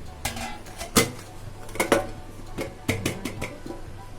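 A plate handled while demolding a healthy triangle snack, with a few clattering knocks and light clinks spaced across the moment over a quiet room hum.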